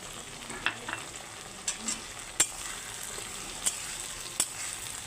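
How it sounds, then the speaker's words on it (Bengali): Fried potatoes sizzle steadily in a pan after poppy seed paste, tomato and ginger paste are added, with a soft continuous hiss broken by a few sharp pops and light stirring ticks. "এখন আলু ভাজা ভাজা হয়ে গেছে এখন বেটে রাখা পোস্ত টমেটো আদা বাটা একসঙ্গে আমি দিয়ে দিচ্ছি"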